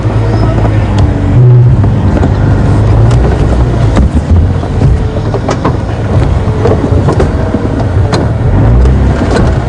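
Safari game drive vehicle at Djuma Game Reserve pulling away, a steady low engine rumble with rattles and knocks that stays loud and close throughout, no talk over it.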